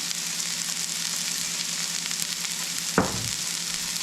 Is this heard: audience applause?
no